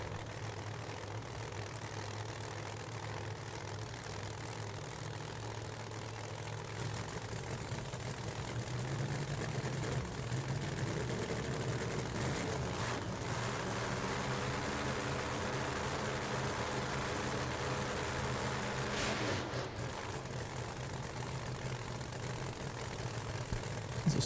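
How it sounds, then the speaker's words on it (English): A turbocharged Ford Mustang drag car idles at a drag-racing shootout, a steady, moderately distant engine rumble that runs throughout with slight swells and no speech. "his turbocharged Ford Mustang for Victus"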